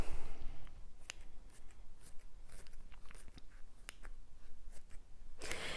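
Scissors snip through a strip of pharmacy bandage during panflute repair, a few sharp isolated cuts over a quiet room background, close and moderately soft.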